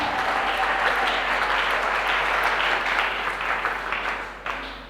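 Church congregation at a community seminar applauding and acclaiming the Lord, a steady, full roomful of clapping with faint cheering mixed in, holding strong before tapering slightly toward the end.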